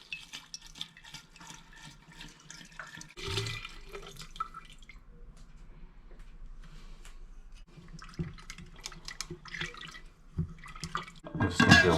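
A 700 ml bottle of vodka is poured out for homemade limoncello. Liquid trickles and splashes nearby with drips and gurgles, rising to a heavier glugging pour at the end.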